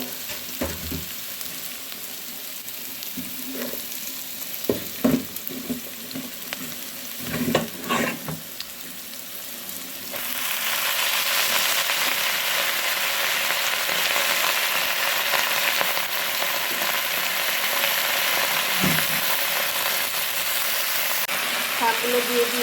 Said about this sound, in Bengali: শাকগুলো দিয়ে দিয়েছি, এবার নেড়ে নেব।